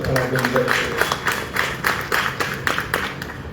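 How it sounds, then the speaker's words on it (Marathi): An audience at a book launch gathering claps in a rhythmic, moderately loud burst of applause, with talking heard among the claps. "त्याबद्दलही त्यांचा आपण जोरदार टाळ्या वाजवून"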